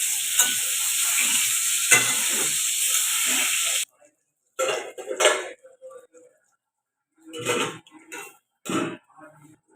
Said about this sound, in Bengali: এইভাবে ঢাকা দিয়ে দিয়ে বেগুনটা ভেজে নেব